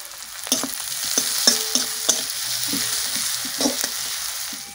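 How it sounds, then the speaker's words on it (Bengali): Onions half-fried in a pan with half a spoon of turmeric powder sizzle steadily while a utensil scrapes and stirs in irregular close taps, a Bengali home cooking scene with no voices. "এখানে পেঁয়াজটা আমি বেশি ভাজবো না, এটা অর্ধেক ভাজা হয়ে গেছে।"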